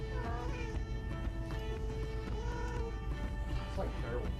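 An unspayed female cat yowls in heat, drawn-out wavering cries rising and falling over steady background noise and muffled human voices for several seconds.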